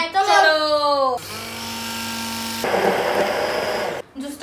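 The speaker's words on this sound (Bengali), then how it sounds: "এবার আমরা করব মেশিন দিয়ে খোদাই।" An electric machine whirs while carving out watermelon flesh, a whining motor with shifting pitch that stops and restarts with a grinding buzz, close and loud, under some talk.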